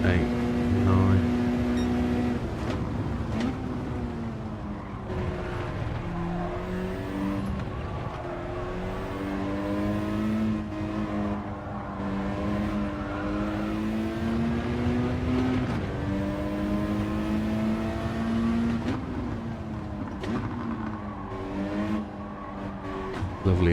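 A race car engine in a punishing no-assist racing video game drones loudly and without a break, with its pitch rising and falling through gear changes and a burbling note. Someone talks over it.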